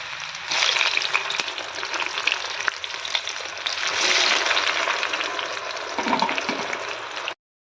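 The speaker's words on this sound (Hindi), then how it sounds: "ये आंवले आपने धीरे से डालने हैं, और अच्छी तरह से जला लेना है हमें इनको।" Amla, Indian gooseberries, frying in hot oil in an iron wok over a low flame, a steady broadband sizzle that swells and eases over several seconds, with occasional stirring scrapes, close and alone.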